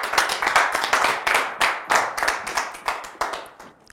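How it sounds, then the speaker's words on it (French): A small studio audience gives a brief round of applause at a talk-show interview, with distinct, close hand claps in an uneven rhythm that fade out at the end. "on peut l'applaudir"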